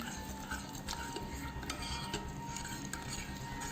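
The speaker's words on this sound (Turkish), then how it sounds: "Şimdi karıştırıyorum." Homemade slime with finger paint mixed in is stirred steadily in a bowl, giving soft continuous wet scraping and clinking under a low background hum, with no voices.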